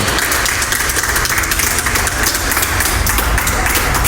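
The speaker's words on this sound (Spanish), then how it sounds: "Le damos un aplauso grande" Applause from a church congregation, a dense, steady wash of many hands clapping that fills the whole stretch at full, even loudness.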